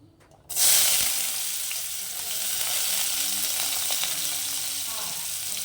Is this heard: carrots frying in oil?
yes